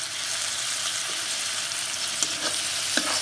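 Ground masala with chopped tomato fries in oil over a medium flame for jackfruit curry, giving a continuous even sizzle with a couple of faint scrapes of stirring near the end.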